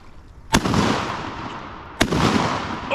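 Two sharp shotgun blasts fired at ducks from a canoe on a river, each loud crack followed by a long rolling echo, spaced about one and a half seconds apart.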